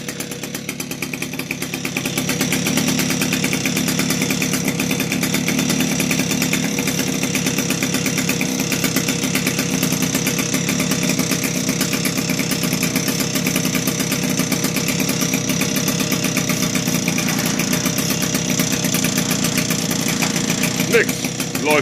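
A Puch Maxi S moped engine idles steadily after an air-leak repair, with a continuous close buzzing putter that holds an even level throughout with no talk over it.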